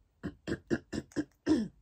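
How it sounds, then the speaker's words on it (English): A series of five short, rough throat-clearing grunts followed by a longer final one, close and fairly loud. "let me clear my throat"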